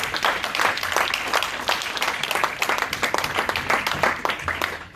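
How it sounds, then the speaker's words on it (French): A church congregation applauding and cheering for Jesus: dense, steady clapping from many hands fills the space, loud and continuous, with voices mixed in throughout. "Quelqu'un peut acclamer Jésus."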